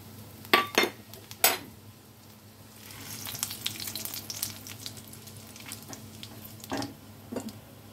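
Whole spices (green cardamom, cloves, cinnamon and cumin seeds) dropped into hot oil for a kofta gravy: a few sharp clinks of a utensil, then a soft, faint crackling sizzle with occasional taps of a pan.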